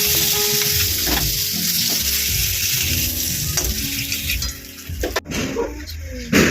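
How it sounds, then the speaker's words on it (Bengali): Small cut pieces of paneer fry in hot oil with a steady loud sizzle as they are stirred and tossed, clattering close up, and the frying briefly dips and crackles near the end. "আমি পনিরটা এখানে ছোটো করে কেটে নিয়েছি, এটাকে আমি হালকা টস করে নেবো।"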